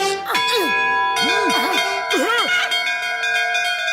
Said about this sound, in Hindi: चलो दोनों एक साथ मिलके इस घंटी को बजाते हैं